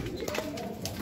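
A racing pigeon coos softly during a derby race clocking, a brief low murmur heard close over faint background noise with no talking.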